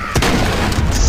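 A SPAS shotgun fires in Dead Trigger 2, a single loud, heavy close blast followed by a short rumbling tail, with a voice briefly underneath.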